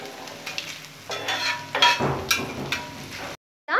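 Dried red chillies frying in a pan with mushrooms for a spicy mushroom pepper fry, a close sizzle with scraping stirs and crackles for about three seconds before it cuts off.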